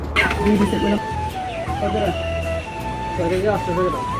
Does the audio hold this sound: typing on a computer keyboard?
no